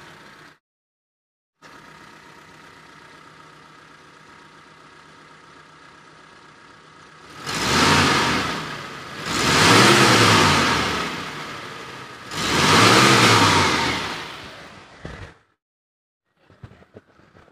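A 2013 Mitsubishi T120SS pickup engine idles steadily, then revs three times in strong, rising-and-falling bursts before settling and cutting off. It sounds close and smooth, with no talking.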